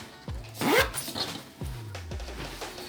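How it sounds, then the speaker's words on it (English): Zipper on a handmade jeans bag being pulled open and closed, giving several quick rasping zips, one longer rising pull, then shorter bursts, close and clear with no talk. "So this is our zip"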